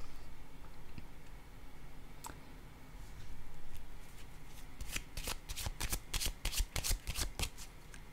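Tarot cards are handled, shuffled and laid down on a table during a reading. Soft rustling runs under quiet room tone and builds into a quick run of crisp card flicks and slaps near the end.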